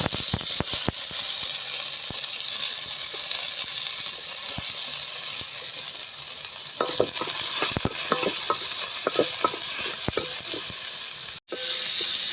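Big chopped onions fry in hot oil in a pan for a fish curry, giving a loud, steady sizzle close by, broken by occasional stirring scrapes and clinks with no talking.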